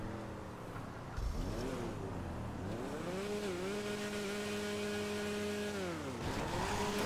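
Engine of the Bf Weevil car in a video game cranking and catching, then revving up with rising and falling pitch before settling to a steady idle, close and alone.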